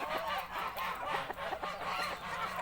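Geese honking repeatedly in a rapid, overlapping run of raspy calls, fairly close, over constant background noise with no talking.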